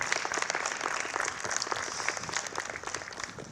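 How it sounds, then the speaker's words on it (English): A crowd at a community center ribbon cutting applauds steadily, a dense wash of clapping that holds at an even level throughout without any voices. "Let's give Mike a big round of applause for what they've done."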